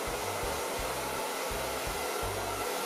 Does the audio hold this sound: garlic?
no